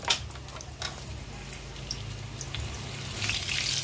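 Chopped onions sizzle and fry in hot cooking oil in a pan for a bistek tagalog, a steady close crackling hiss with no talk over it.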